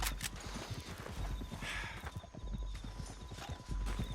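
Rapid, rhythmic clip-clop of horse hooves at a gallop in Red Dead Redemption 2, close and continuous, with a brief whinny near the start.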